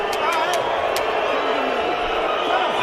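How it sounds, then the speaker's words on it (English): A boxing crowd boos a fighter after a knockout uppercut, a dense, steady roar of disapproval filling the arena with a voice talking over it. "The crowd not liking this."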